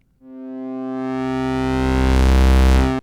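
A steady synth sine wave swells in and grows brighter and buzzier as wave folding pushes its harmonics upward, held for about three seconds before cutting off.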